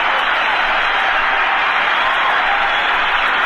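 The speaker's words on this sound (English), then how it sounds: "the tremendous ovation here at a capacity crowd at the Boston Garden continues for young number 4, 21-year-old Bobby Orr" A capacity crowd at the Boston Garden gives a sustained, loud ovation for 21-year-old Bruins defenseman Bobby Orr, dense applause and cheering holding steady throughout with no break.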